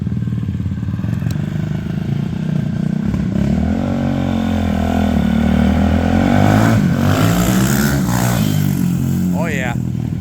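A Cannondale X440 big-bore four-stroke dirt bike engine revs steadily nearby, its rough throaty note climbing and falling through several throttle blips, with voices talking over it.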